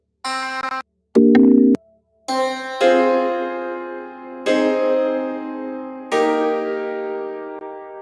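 Several piano notes and chords ring out one after another, each struck cleanly and left to decay, with short pauses between them.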